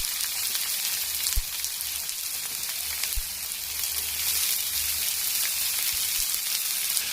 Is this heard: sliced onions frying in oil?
yes